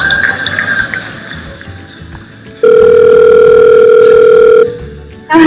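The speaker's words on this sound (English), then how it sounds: "what you're going to hear is the Google Assistant actually calling a real salon to schedule the appointment for you" An outgoing phone call placed by Google Assistant to a real salon, with background noise followed by a loud, steady tone lasting about two seconds.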